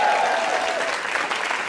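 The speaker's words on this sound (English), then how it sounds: "Give a round of applause to the streaming folks," A game show studio audience claps steadily for the streaming viewers, a dense, even wash of applause with faint voices underneath, lasting under two seconds.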